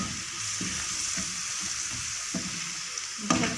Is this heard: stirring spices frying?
yes